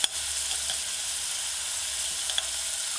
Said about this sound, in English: Or stir the stew in the pot.